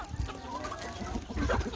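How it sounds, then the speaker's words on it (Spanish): Hens and roosters being fed on a small farm, clucking and murmuring close by in a busy overlapping flock, with a louder burst of clucks near the end. "Aquí nuevamente alimentando mis pollas y mis gallos."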